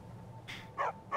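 A dog in the video game Skyrim gives two or three short, clipped barks in quick succession over a quiet, low ambient hum, fairly close and moderately loud.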